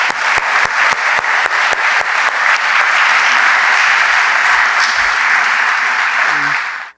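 Sustained audience applause at a lecture event, beginning with a few loud distinct claps and swelling into dense, steady clapping from a full room for about seven seconds before cutting off.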